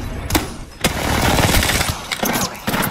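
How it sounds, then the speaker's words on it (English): Gunfire in the Apex Legends video game: bursts of loud, close shots crack out in quick succession, with a sustained rattling stretch between sharp single reports, no speech over it. "They're shooting at me."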